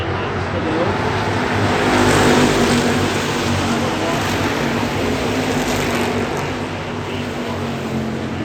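Hobby stock race cars roar around a dirt speedway, a continuous loud engine drone that swells and fades slightly as the field passes, with crowd and track ambience underneath.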